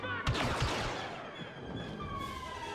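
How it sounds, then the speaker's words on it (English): A few sharp blaster shots strike a wall in Star Wars Battlefront 2, followed by a lingering high electronic whine and faint background ambience, with no speech. "That one guy was shooting at the wall."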